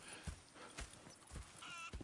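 Horse hooves clip-clop in Red Dead Redemption 2, several soft, evenly spaced thuds at a slow walking pace under a faint ambient wash, with a brief whinny-like sound near the end.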